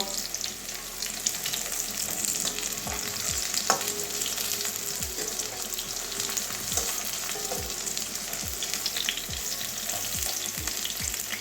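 Thin potol (pointed gourd) slices fry in oil as a spoon lifts and drains them, a continuous sizzle broken by regular light scrapes and clinks of the utensil against the pan.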